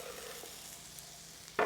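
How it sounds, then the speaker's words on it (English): A quiet, even sizzle of half a cup of onions softening in a hot skillet that earlier seared beef, faint and continuous with a few small ticks and a sudden louder scrape at the very end. "we have 1/2 cup of onions, and we just want to soften those"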